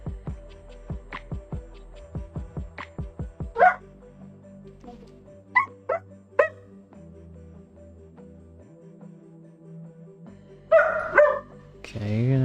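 Dog barking indoors in a burst of several sharp, fairly close barks, then scattered yips and whimpers, with a person talking in between.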